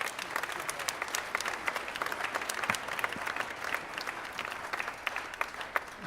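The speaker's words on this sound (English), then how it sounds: "How about a round of applause for the Stanbaugh kids?" Applause at a school winter band concert for the student musicians, a dense, fairly faint crowd clapping that continues evenly throughout.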